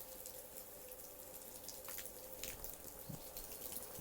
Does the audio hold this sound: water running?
yes